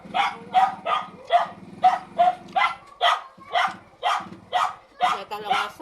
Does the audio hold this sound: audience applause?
no